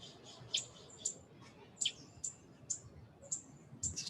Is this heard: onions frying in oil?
no